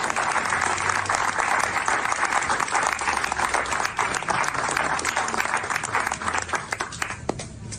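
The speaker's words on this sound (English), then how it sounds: "you can kind of tell from the applause as she's coming in" Applause from a small crowd of roughly twenty to twenty-five people in a room, steady dense clapping held throughout as someone enters, with some crowd murmur mixed in.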